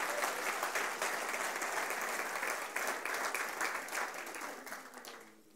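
Congregation in a church service applauding strongly, a dense sustained wave of clapping that holds steady and tapers off in the last second.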